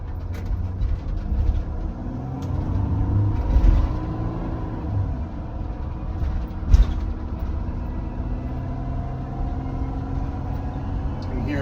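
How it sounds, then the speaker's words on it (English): A 2015–2022 Mercedes Sprinter 4x4 runs in low-range four-wheel drive, its drivetrain droning and revving with rising and falling engine tones and a brief louder surge midway, heard from inside under continuous road rumble. "I'm going to give you a demonstration of what the transmission sounds like when we have four-wheel drive on and we have the low range gear settings engaged"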